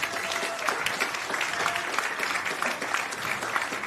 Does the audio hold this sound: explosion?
no